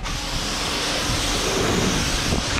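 Water spraying onto a car during a wet coating wash test, a steady close-up hiss of spray that runs unbroken and loud from start to finish.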